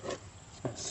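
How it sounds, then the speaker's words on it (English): Scraping debris and caked grass off the underside of a lawn mower deck, two short rough rasping strokes close up, separated by a brief pause. "Scrapey scrape."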